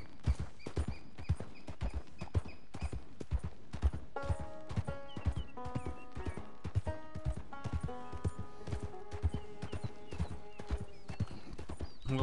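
Horse hooves clip-clop steadily in an even trotting rhythm as a rider travels toward a snowy area in a PS4 cowboy video game, with a musical score entering midway and an occasional whinny.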